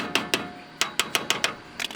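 A hammer taps a bolt through a car's front suspension in sharp metallic strikes, about eight close knocks in an uneven rhythm.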